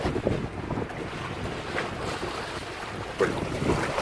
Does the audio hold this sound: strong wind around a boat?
yes